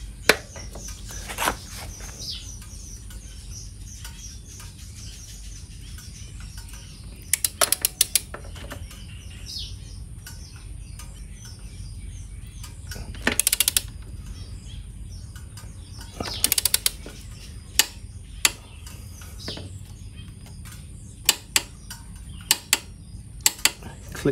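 A torque wrench set to 70 newton meters gives a few distinct sharp clicks against a quiet workshop background while fastening on a Royal Enfield Meteor 650 belt drive conversion, with brief pauses between the clicks.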